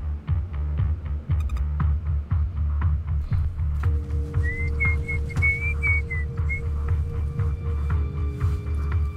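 A man whistles a tune at night, a wavering melodic line in the middle of the clip over a steady low throbbing hum and rhythmic background pulses.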